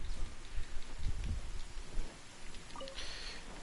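Steady rain falls in the video game Genshin Impact, a continuous close hiss of pattering drops with a soft low rumble underneath, no talking.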